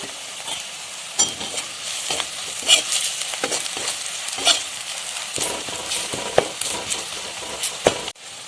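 Spices stirred into garlic and onion frying in a pan for an Assamese chicken fry, a steady close sizzle broken by repeated scraping and clattering strokes of the spoon, no voices.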